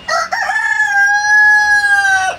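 A large Brahma rooster on a poultry farm crows once, loud and close, a long sustained call lasting over two seconds that trails off at the end.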